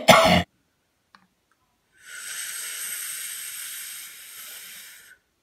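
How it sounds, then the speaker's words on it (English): One short sharp cough up close, then after a pause a steady soft hiss of someone vaping that lasts about three seconds and stops. "Hold on, who on earth could be coughing?"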